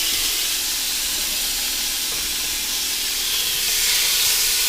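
Lamb chops sizzling loudly in a very hot pan, a dense, steady hiss close up, continuous throughout without talk.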